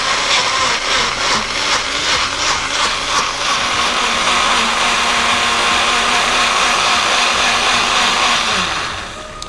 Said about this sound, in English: We're gonna blend until it's nice and smooth.